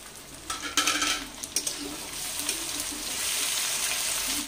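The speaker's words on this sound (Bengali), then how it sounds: "দুটো আমি টমেটো কেটে রেখেছিলাম, এখন দিয়ে দিচ্ছি" Chopped tomatoes go into frying onions in a pan: a few sharp scraping knocks at the start give way to a steady, close sizzle as the mix is stirred.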